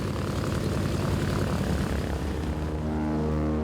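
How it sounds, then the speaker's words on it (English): A heavy propeller aircraft of about eight tons with no hydraulic systems begins its takeoff roll on a runway, engines at a loud, steady drone that fills the clip, with no talking. "The runway is clear for takeoff. The 8 tons of flying metal start moving."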